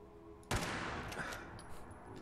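Gunfire erupts in Fallout 4, a sudden loud burst of shots fired from a bunker, ringing out and tailing into a rattling wash of noise.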